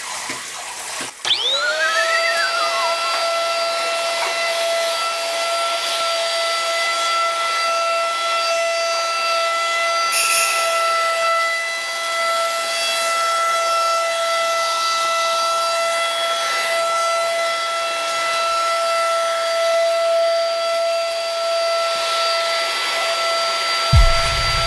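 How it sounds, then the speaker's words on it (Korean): A household vacuum cleaner starts up and runs steadily with a loud, sustained motor whine at close range, holding an even drone for the whole stretch until it cuts off at the end. "우리 언니 청소기 할게."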